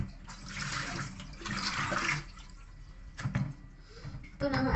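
Seaweed is rinsed in water for the final of three washes, giving soft sloshing, splashing and trickling in bursts at moderate distance, with faint talk in the background.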